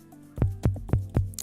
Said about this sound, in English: we actually have a high tom sound